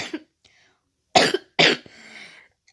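Two sharp, close coughs follow each other quickly, with a faint breathy tail in a quiet room.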